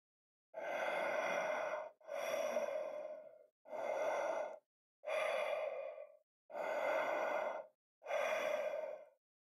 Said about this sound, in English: But then she heard that deep, distorted breathing.